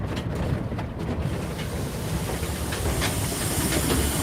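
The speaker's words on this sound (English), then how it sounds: "it's simply the load, the weight of the load of the locomotive that makes that difference in sound, where it really starts chuffing hard against the weight." An 1889 Porter steam locomotive working under load on a Nevada City narrow-gauge railroad, with steady loud hissing steam and rumbling chuffs that run without a break, close by, with no voices.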